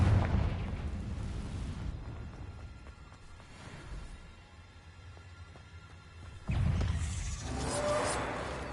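Confringo explosive spell blasts go off in a cave in Hogwarts Legacy: a loud burst opens, then a rumbling decay, and a second strong blast hits later, followed by a trailing, crackling roar.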